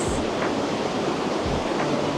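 The Galaxy waterfall at Longshui Gorge in Wulong, Chongqing, roars as a constant, dense wash of falling water heard close by, with a bit of wind buffeting the microphone.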